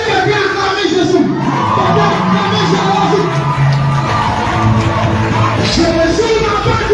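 A church congregation cheers and yells together in a continuous, loud crowd roar with shouts rising and falling throughout.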